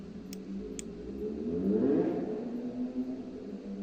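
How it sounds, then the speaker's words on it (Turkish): A large motorcycle passing by outdoors, its engine note rising and swelling as it nears then fading away, moderately distant, with a couple of faint clicks early on. "Dışarıdan motor geçiyor şu an."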